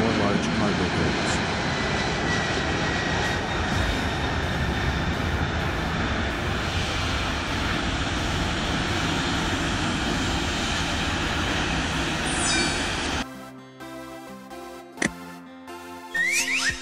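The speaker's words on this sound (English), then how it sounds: "Cargo aircraft are fixed-wing aircraft designed or converted to transport goods instead of passengers." Steady, loud roar of cargo aircraft engines, a fixed-wing plane built to carry goods, droning continuously for about thirteen seconds before cutting abruptly to a quiet musical background.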